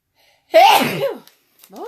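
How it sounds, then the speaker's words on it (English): A single loud, close sneeze bursts out after a half-second of silence, trailing off, followed by a brief vocal sound indoors during a craft session. "I have a sneeze coming on,"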